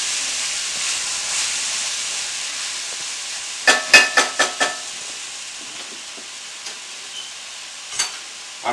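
Potatoes, tomato and green onion go into a hot pan for a masala beef steak dish, with a soft sizzle followed by a quick run of sharp clattering stirs and scattered later taps.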